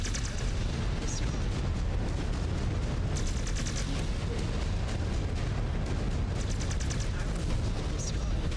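Artillery barrage falling from the sky in a Mechwarrior battle, a dense continuous roar of explosions and gunfire filling the scene, with bursts of sharper crackle layered over the rumble throughout.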